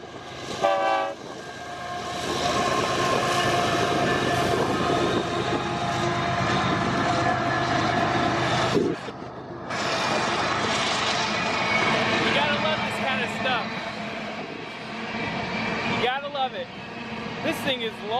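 A mile-long Midwest freight train hauled by four engines rolls past close by, a loud, steady rumble of cars with a horn sounding near the start and near the end, and a voice talking over part of it.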